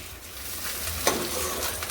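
Chopped onion and tomato fry in a pan on a gas stove, a soft, steady sizzle with one brief stirring scrape, and no voices.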